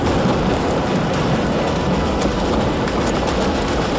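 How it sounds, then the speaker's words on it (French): Small hail, about 2 cm stones, falls steadily during a spring storm outbreak in western France, a dense, even patter of many small impacts with occasional louder clicks and no talk. "Oh, ça va, c'est de la petite grêle."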